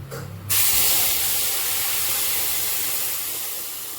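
Masala paste poured into a hot pan for country chicken curry sets off a sudden loud, steady sizzle that bursts in after a brief quieter moment and holds, fading only slightly, with no talking.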